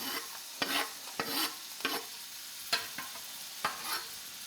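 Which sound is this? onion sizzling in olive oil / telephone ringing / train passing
onion sizzling in olive oil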